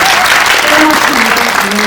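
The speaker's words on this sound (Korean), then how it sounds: "박수 한번 주십시오." Loud, dense applause fills a cinema during a special audience talk event for a film screening, sustained throughout with a speaker's voice faintly mixed in.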